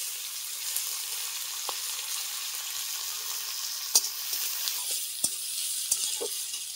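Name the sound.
chopped onion and carrot frying in pan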